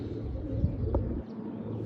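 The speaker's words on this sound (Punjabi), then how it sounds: "ਇਹ ਆ ਬੈਠਾ ਕਬੂਤਰ" A pigeon with pink shoulders, perched by a coop where young pigeons are kept, gives a couple of soft, low coos against a steady background murmur.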